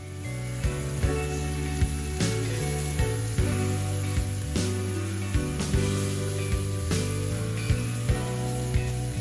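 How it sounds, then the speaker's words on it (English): Beef pasta sauce sizzling steadily in a hot pan as tomatoes are stirred in, with a continuous frying hiss and recurring soft knocks and scrapes of stirring, close and fairly loud over a bed of background music. "go ahead and stir in the tomatoes until they are cooked through"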